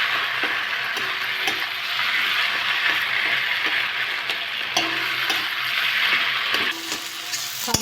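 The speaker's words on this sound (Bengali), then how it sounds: "সাবুটা একটু ভেজে নিয়েছি।" Sago pearls frying in hot ghee, a steady close sizzle running throughout with light scraping stir strokes and small clicks as the spoon moves through the pan.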